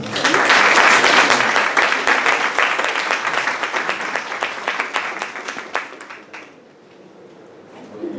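An audience gives loud, sustained applause welcoming speakers to a film debate, dense clapping that gradually thins and fades to a few scattered claps near the end.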